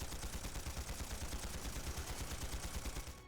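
Rapid automatic gunfire in the game Trails Through Daybreak, one sustained close burst of fast, even shots lasting about three seconds.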